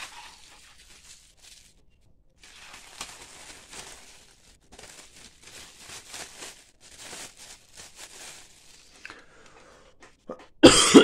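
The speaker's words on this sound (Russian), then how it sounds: "я на фоне видео кашляю, так как остаточно от заболевания" A person coughs repeatedly in short, soft bursts while recovering from an illness, near but quiet, scattered over several seconds with a rustle of plastic model kit parts and a louder clatter at the end.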